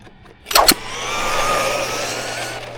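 A Hosim X07 RC car's electric motor run at full throttle on a 4S battery, opening with a loud sharp burst and then settling into a steady high whine that carries to the end.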